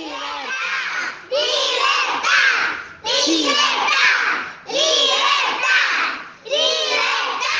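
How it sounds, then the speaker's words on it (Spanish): A large crowd gathered in a town plaza shouts in repeated loud surges, four bursts of massed voices with brief drops between them, like chanting or cheering in an open space. "el grito del pueblo reunido en la plaza gritando"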